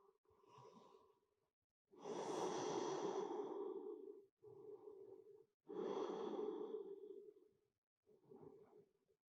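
Slow deep breathing in yoga crocodile pose, lying on the belly: a few long audible inhales and exhales, close and soft with clear pauses between breaths and no talk.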